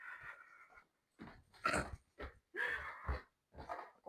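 Dog indoors giving a series of short barks and whimpering vocal bursts, close and moderately loud, separated by brief pauses.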